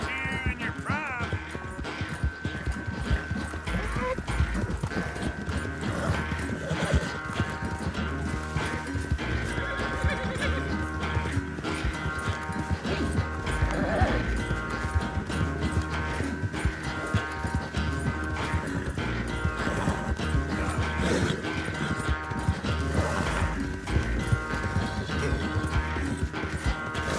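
Horse whinnies and clip-clopping hooves in Red Dead Redemption 2 ring out over a steady bed of game music and ambience, holding at a constant loudness for the whole stretch.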